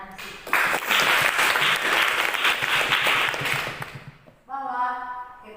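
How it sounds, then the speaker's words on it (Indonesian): A room full of people breaks into sustained, dense clapping for Nancy, loud and close, holding steady for several seconds before tapering off, after which a voice begins talking. "Mari kita kasih aplaus kepada Nancy"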